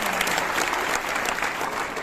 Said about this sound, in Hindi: एक बार जोरदार तालियों से आभार।